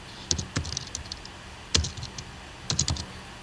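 Keys are tapped on a computer keyboard in three quick clustered bursts of soft clicks, close and fairly quiet, with no talking.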